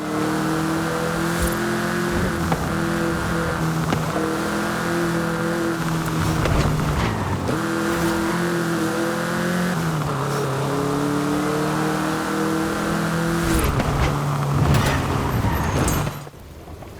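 A Volkswagen Beetle engine in Forza Horizon drones steadily and loudly with a gritty, buzzing tone, rising and falling through repeated rev swells and gear changes before dropping off abruptly near the end.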